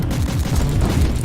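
Rapid gunfire rattles in Warhammer 40,000: Inquisitor, a dense, loud, continuous barrage with heavy low booms packed tightly together, no voices over it.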